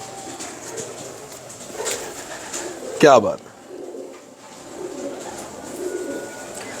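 Teddy pigeons coo in a loft, a soft repeated throaty cooing with a brief flutter of wings partway through, while someone talks nearby.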